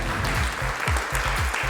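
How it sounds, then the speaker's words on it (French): A crowd at a fashion show contest applauds with dense, continuous clapping, loud and close, over a low rhythmic music beat. "Un tonnerre d'applaudissements pour ce ventre plat"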